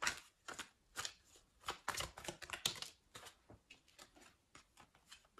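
Tarot cards riffle and slap in quick bursts of crisp shuffling, close by and fairly soft, with short pauses between.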